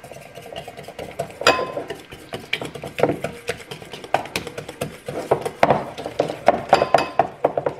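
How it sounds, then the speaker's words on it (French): A utensil clinks and scrapes against a bowl while egg yolks and melted chocolate are mixed, making irregular taps and stirring strokes that grow busier toward the end, close and clear. "je vais mélanger les jaunes d'œufs et le chocolat fondu"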